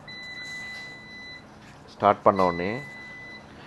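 A laundry washing machine in a guest laundry room gives steady high electronic beep tones when started, faint and continuous, while a person speaks over it.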